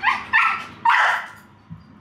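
A dog barks three close, loud times in quick succession, with a lower growl and a soft whimper between the barks, indoors at home.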